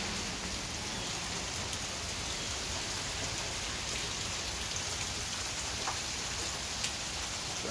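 Steady rain patters continuously on a surface, an even hiss with scattered individual drops, no voices.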